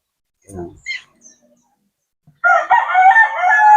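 A backyard-bred gamecock crows loudly and close by in one long call after a few faint clucks and brief sounds at the start.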